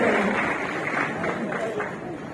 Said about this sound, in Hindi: काइंडली उनके लिए भी जोरदार तालियां